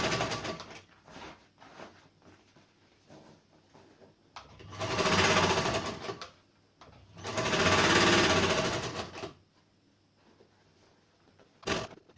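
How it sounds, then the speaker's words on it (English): A sewing machine double-stitches a fabric garden furniture cover, running in two long loud bursts of rapid mechanical whirring between short stop-start stitches and handling noises, close up with no talking. "Just to double stitch everything, because this will probably come apart very quickly otherwise"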